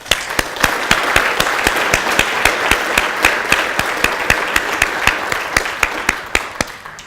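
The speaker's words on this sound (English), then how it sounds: "So it'd be nice if you gave them a great big round of applause." Clapping from a conference audience thanking the organising team, a steady wash of hands with sharp, regular slaps standing out throughout, fairly close and sustained for about seven seconds without speech.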